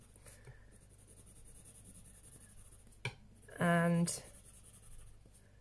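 Polychromos coloured pencil laying a soft, light layer of cadmium yellow on paper, faint scratchy strokes under a quiet voice, with one louder burst of scratching in the middle.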